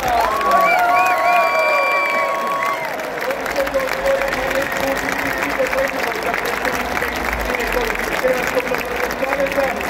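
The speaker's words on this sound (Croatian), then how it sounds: "uoči početka utakmice pozdravimo velikim pljeskom svima omiljenog vatrenog, srebrnog Šimu Vrspajka" A stadium crowd at the Croatia–Denmark Nations League football match breaks into sustained loud applause with some cheering, washing over the whole stretch with a public-address voice ringing over it early on.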